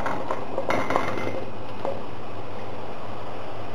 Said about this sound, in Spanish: Ahora añadimos las coles.